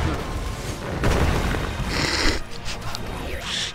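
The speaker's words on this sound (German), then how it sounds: "Explosionen überall." Chaotic explosions from the video game Magicka in the mines level: a dense, continuous run of booming blasts and crackling bursts, loud and overlapping, with bright hissing flares toward the end.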